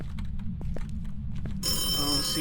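A phone rung by a ghost in the horror game Phasmophobia: after a few faint thuds over low rumble, a bright electronic ring bursts in abruptly and continues loudly to the end, with no talk over it.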